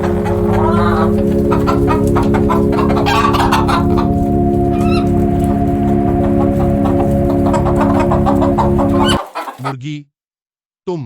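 Close hen clucking in bursts over steady tonal background music, clear and loud, ending with a short drop-off near the close.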